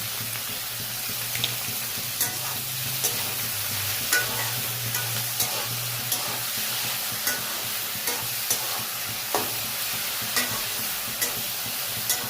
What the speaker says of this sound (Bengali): লতিটা একটু ভাজাভাজি করে নিই